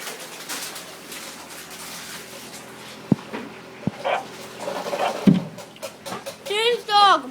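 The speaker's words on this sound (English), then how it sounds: "Here's the dog." A puppy barks sharply a few times and then whimpers and yelps in rising, high-pitched cries near the end, close by in a home, with people talking throughout.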